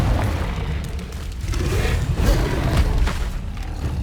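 A Confringo blasting spell explodes in the Hogwarts Legacy video game, a dense, loud roar of booming blasts and crackling debris that rumbles on for the whole moment with no pause.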